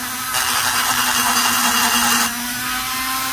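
A rotary grinder works on the intake port of a chainsaw cylinder, with a high steady whine under which a brief firmer grinding pass rises and then eases off. No one speaks.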